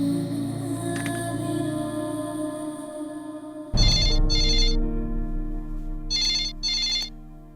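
A telephone rings loudly in a two-burst pattern, repeating twice in a tense scene from a Mumbai gangster film, with a sudden heavy musical hit beneath the rings.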